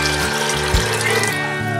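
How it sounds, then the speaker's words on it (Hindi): Water pours from a glass into a pot of rajma (kidney beans) in a home kitchen, a steady close splashing stream running continuously without speech. "अब इसमें मैं 3 ग्लास पानी"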